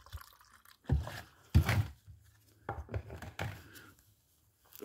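Waste oil dripping into a homemade waste oil heater, a handful of separate splashy drips with short pauses between them, fairly quiet and close.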